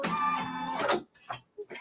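A home embroidery machine stitching a quilt block in a hoop, giving a steady mechanical whir for nearly a second, then a few short bursts of motor and needle sound with pauses between them.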